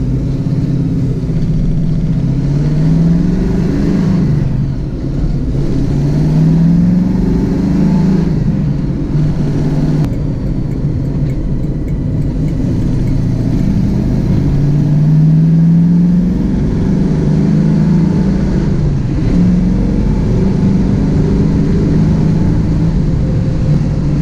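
A first-generation Ford Mustang cruises at highway speed in traffic. Its engine drone is steady and loud, with rising and falling tones as it pulls, and road and wind roar sit under it the whole way.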